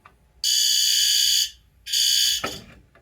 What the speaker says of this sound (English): I'm about to test it with fire alarm again